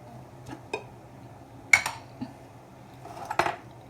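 A metal teaspoon clinking against a bowl while a vinaigrette with honey and turmeric is mixed: a handful of sparse, bright taps and scrapes, close and fairly quiet, with no talking.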